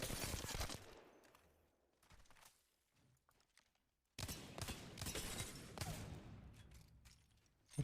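Rapid bursts of gunfire from a video game shooter, loud and close, clustered into dense volleys with a brief quieter stretch between them.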